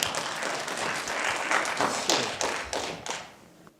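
A room full of people applauds after a magic trick at a performance, with dense, continuous clapping that fades toward the end.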